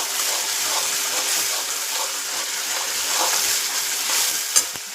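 Thick tomato gravy with oil for an eggplant and potato curry is stirred in a pan, a steady wet sizzle with soft scraping and one sharp clink near the end.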